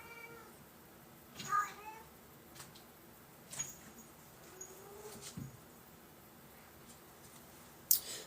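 A pet cat meows softly a few times at a distance, faint against a quiet indoor room, with one brief clearer meow early on and small scattered noises around it.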